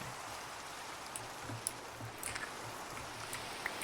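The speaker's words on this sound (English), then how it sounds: "Oh, it's raining. It's raining." Rain in Minecraft falls as a soft, even hiss with a few faint droplet ticks, steady and quiet throughout with no talking.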